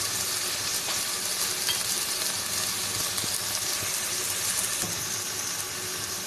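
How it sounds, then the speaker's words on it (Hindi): Steady, loud sizzling of tomatoes frying in a hot pan, with occasional faint stirring scrapes. "टमाटर को भी इसी तरह थोड़ा सा फ्राई कर लेंगे"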